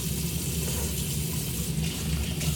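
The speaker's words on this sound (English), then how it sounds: "The water sounds, because it will be loud." A bathroom sink tap runs warm water in a steady, close hiss and splash that holds at an even level for a few seconds, with no talking.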